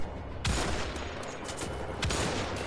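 Enemy gunfire from Nazi soldiers in the video game Wolfenstein: The Old Blood, a dense continuous fusillade with a few sharper, louder shots standing out, heard close and alone.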